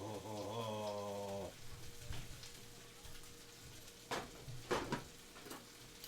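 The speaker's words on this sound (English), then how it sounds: "That's like the best sound in the world, ain't it? Sizzle. Love the sizzle." Steady sizzling of steak fajitas frying in a hot pan, with a brief tonal sound at the start and scattered clatter and stirring.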